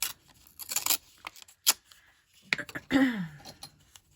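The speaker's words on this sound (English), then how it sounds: "I'm gonna cut this out with some scissors." Several crisp snips from scissors cutting paper close up, irregularly spaced, followed by a brief rustle and a short voiced sound.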